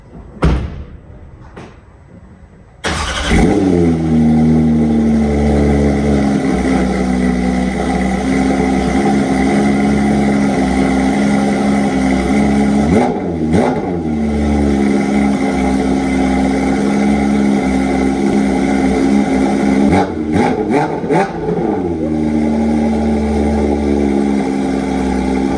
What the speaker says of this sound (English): It's so loud for a standard car anyway, and now that's just a little bit louder.